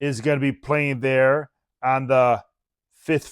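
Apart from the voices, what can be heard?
No everyday noise stands out behind the speech.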